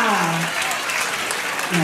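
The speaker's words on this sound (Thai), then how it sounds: "ปรบมืออีกครั้งหนึ่งนะคะ" An audience at a fashion show breaks into steady applause, a continuous clapping wash while a voice speaks over it near the start and end.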